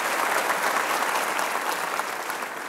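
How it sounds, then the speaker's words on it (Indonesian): A studio audience on a television talk show gives sustained applause, a dense, even wash of clapping from many hands that holds steady and fades slightly toward the end, with no voices over it. "Boleh kita kasih tepuk tangan sekali lagi dong sudah hadir."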